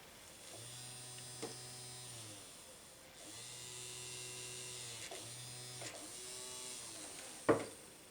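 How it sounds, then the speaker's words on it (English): A small electric motor in a Hypno-disc antweight combat robot replica spins up in short whining bursts, faint and close, several runs with brief pauses and a click near the end. "Motor spins."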